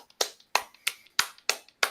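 A voice imitates soldiers clapping in barracks, six sharp, evenly spaced claps at close range, each a crisp smack with a brief decay, no talk between them.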